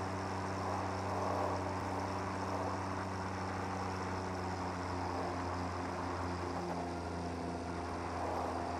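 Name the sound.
diesel truck engine in Satisfactory video game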